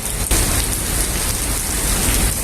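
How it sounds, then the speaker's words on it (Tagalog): Heavy rain pours down steadily in a dense, continuous hiss on a mountain road, loud and close, with one brief thud near the start and no voices. "Ngayon naman, umulan."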